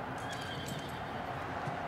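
Horses whinny faintly amid a dense, steady wash of ambient noise, with hooves clopping softly in the background.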